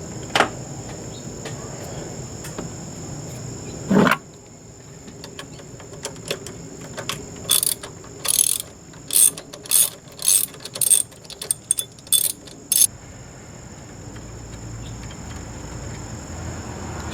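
A ratchet clicks in short bursts while unbolting the IAC valve on a 1991 Ford F-150, about a dozen quick close ratcheting runs after a couple of metallic knocks, over a steady background hum.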